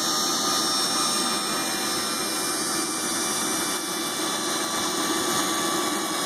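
A King Tech K210 model jet turbine for an RC Predator jet runs loud and steady outdoors in the cold, a continuous roaring whine with high tonal lines holding throughout, no voices over it.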